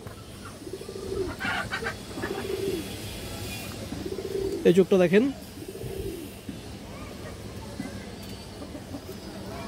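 A male pigeon with an all-black tail gives about four soft, low, rolling coos at a moderate distance, spread across the stretch, while someone talks nearby.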